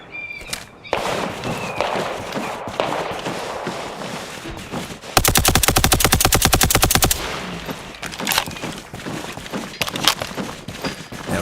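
Sustained automatic gunfire in the military shooter Arma Reforger, a loud rapid rattle of evenly spaced shots lasting about two seconds, with scattered single shots and movement noise before and after.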